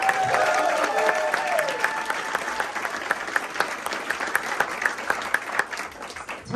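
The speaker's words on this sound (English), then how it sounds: "Let's give him a round of applause." An audience at a ski area's 85th anniversary event gives a round of applause, a fairly close burst of clapping that thins toward individual claps as it fades.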